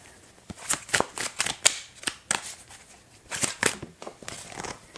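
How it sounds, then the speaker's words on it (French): Tarot cards being shuffled and drawn, a quick series of crisp riffling snaps and papery flicks in uneven bursts, close and fairly loud with no talking. "Je vais prendre une carte pour la justice."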